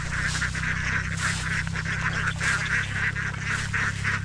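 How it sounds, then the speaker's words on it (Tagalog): A flock of domestic ducks at a pond gives loud, continuous honking and quacking, the calls overlapping in rapid repeated bursts over a steady low hum. "dito po natin ilalagay ang ating mga itik sa dulo"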